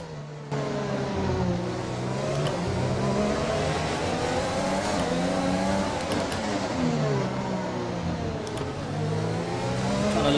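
A Formula 1 car engine screams down a straight in the F1 2020 racing game at the Azerbaijan Grand Prix, its pitch climbing and dropping through gear changes in a continuous, loud whine.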